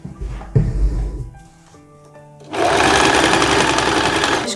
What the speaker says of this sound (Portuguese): aí a gente costura, fecha essa parte aqui da blusinha